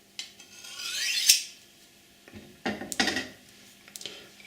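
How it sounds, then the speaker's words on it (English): A kitchen knife blade is drawn along a sharpening steel in a few separate strokes, each a bright metallic rasp, close and fairly quiet with pauses between. "which allows you to have the steel and use the steel to sharpen a slightly less tempered blade"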